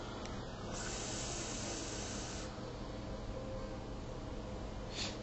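A long steady hiss of vapour comes from an e-cigarette draw while a King's Crown e-liquid is being tested, close and continuous for several seconds with no talking.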